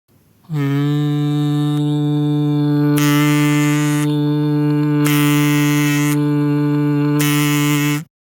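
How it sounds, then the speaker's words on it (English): Kazoo hummed as one long sustained buzzing tone, with a finger pressing and releasing the membrane to make three distinct pulses of brighter, harsher buzz, loud and alone. "Now all you have to do is hum into kazoo, and while humming, place your finger on membrane gently"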